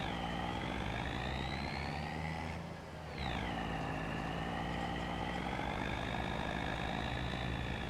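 A truck engine idles in the video game Farming Simulator 25, a steady rumbling drone with a harmonic whine that dips briefly in pitch, then settles back, continuous and close.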